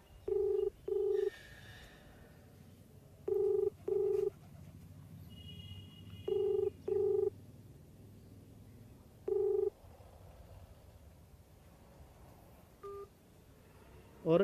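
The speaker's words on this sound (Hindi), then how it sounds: "ये बैल गई है" An unanswered call to an electricity office in Jalandhar Cantt rings out as a telephone ringback tone: paired beeps repeat in four evenly spaced double bursts, clear and alone over faint room hiss, with a few stray clicks near the end.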